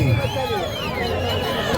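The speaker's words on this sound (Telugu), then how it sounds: "గట్టిగా కేకలేసి చప్పట్లు కొట్టారు" A crowd at a bullock cart pulling contest shouts and cheers loudly, a dense roar of voices with rising calls and a commentator speaking over it.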